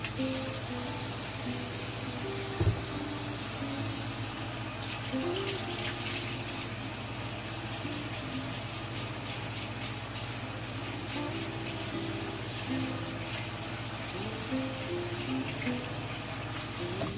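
A kitchen tap runs steadily while a knife is washed at the sink, a soft continuous hiss of water with a single brief knock near the start.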